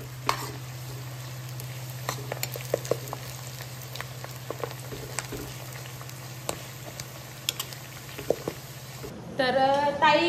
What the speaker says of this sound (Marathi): छान असं याला पूर्ण म्हणजे कांद्याला ब्राऊन रंग येईपर्यंत आपल्याला परतून घ्यायचं.